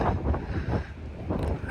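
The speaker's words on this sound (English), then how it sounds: "It's like 45 degrees out here and just wonderfully windy." Strong gusty wind blowing outdoors on a 45-degree January day, buffeting a microphone in loud rumbling bursts for under two seconds.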